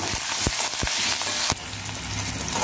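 Dried red chillies and curry leaves fry in hot oil for a tempering, producing a loud, close, continuous sizzle with a few sharp crackles and spoon scrapes before the hiss drops slightly and carries on.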